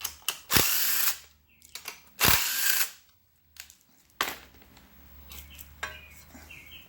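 A front plate is unbolted from the engine of a 1952 Ferguson TEA tractor: several loud, separate bursts of a power tool or ratchet whirring, with pauses, small metallic clicks and rattles between them, no talk.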